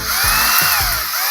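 A handheld power drill whirs loudly and continuously up close, its motor pitch dipping and recovering in a few brief pulses, with no voices.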